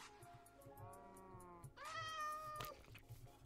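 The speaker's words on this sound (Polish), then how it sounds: "Mamy nowego kota." A cat in the Minecraft video game gives a few drawn-out, tonal meows in close succession, clear and fairly loud, with the second call rising higher, over a faint steady background.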